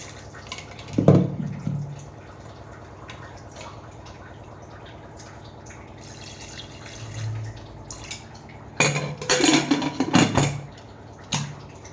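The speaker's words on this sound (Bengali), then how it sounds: "আমি জল দিয়ে দিলাম।" Water is poured into a pot of meat cooking with pumpkin and potato. A splash comes near the start, then quiet simmering, and another stretch of pouring and clattering follows later, close and without talking.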